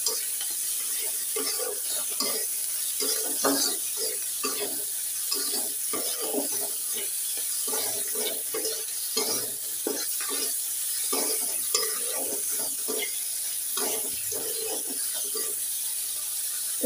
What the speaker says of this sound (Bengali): একটু হলুদ দিয়ে চিংড়ি মাছটা পেঁয়াজ রসুনের সঙ্গে ভেজে নিচ্ছি